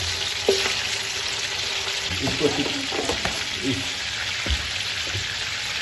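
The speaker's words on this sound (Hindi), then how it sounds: "इसमें हमने अब फ्राई कर देना है चिकन को" Chicken pieces fry in a hot pan in a meat and okra kitchen, giving a steady broadband sizzle with a few sharp clinks and stirring knocks, close and moderately loud throughout, with no talk.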